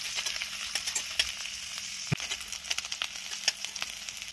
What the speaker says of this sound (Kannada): ಈಗ ನೋಡ್ರಿ ಈರುಳ್ಳಿ ಸ್ವಲ್ಪ ಹುರ್ಕೊಂಡಿದೆ ಅಲ್ಲ